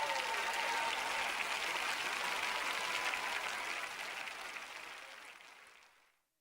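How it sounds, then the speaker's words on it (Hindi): Sustained audience applause at a Hindi-language Christian sermon gathering, a dense steady wash of clapping that holds evenly for several seconds and then tapers off to silence at the end. "चलो तो आप जोर से तालियां बजाइए।"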